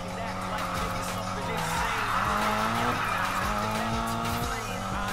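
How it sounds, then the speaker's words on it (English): Car drifting in Need for Speed Payback, a revving engine with long, wavering tire squeal across the whole stretch, loud and close, with a voice heard faintly underneath. "Drift runs are satisfying to pull off."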